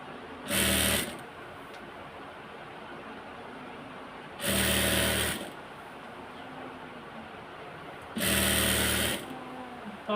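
A sewing machine stitches salwar fabric pieces together in three separate loud whirring bursts of about a second each, separated by quiet pauses with faint handling of cloth and no talking.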